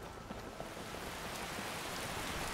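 Steady rain in the Skyrim video game, a continuous even hiss of falling drops on surfaces that fills the whole stretch at a fairly constant moderate level.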